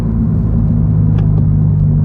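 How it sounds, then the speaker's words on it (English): Toyota GR86 fitted with an AWE track exhaust, picked up by a microphone mounted on the back of the car: a loud, steady low exhaust drone with a deep harmonic rumble, alone and unbroken. "just captured the sound of the AWE track exhaust"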